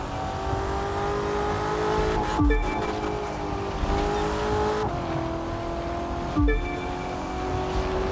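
Racing cars in The Crew 2 roar steadily at high speed, engine tones rising and falling with gear shifts, with two sharp transient bursts cutting through the continuous drone; no talking.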